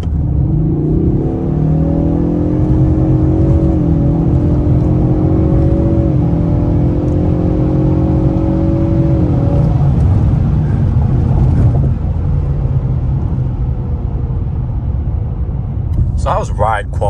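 A 2024 Ford Mustang EcoBoost accelerating hard, its turbocharged engine droning and climbing through rising gear pulls, then easing to a steady cruise hum; heard from inside the car, with a brief voice near the end.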